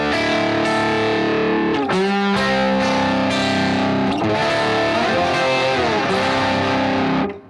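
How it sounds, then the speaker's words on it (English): Electric guitar through a Fractal Dynaflanger preset, a run of loud overdriven notes and chords with a subtle warbling sweep, played alone for several seconds before cutting off. "here's the side that has the Dynaflanger on it"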